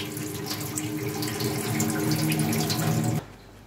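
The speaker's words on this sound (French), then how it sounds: "Les refroidir dans l'eau froide pendant quelques instants." Cold tap water runs steadily over food in a kitchen sink, a close, full splashing rush that cuts off abruptly near the end.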